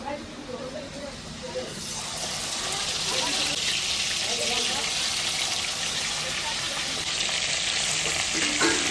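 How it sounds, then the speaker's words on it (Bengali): Fish fried one by one in hot mustard oil in a small wok, a sudden loud sizzle that builds and holds as a close steady hiss, with a voice speaking over it. "তেল গরম হয়ে গেছে, এখন আমি এক এক করে মাছ ভেজে নেব"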